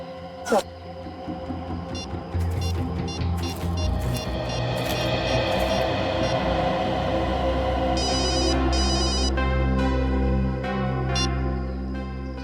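A telephone rings in repeated short electronic bursts toward the latter half, moderately loud over a dense, continuous background of music and hum.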